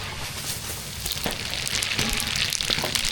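Mustard seeds crackle and pop in hot oil with a steady sizzle, busy and close, with no voices.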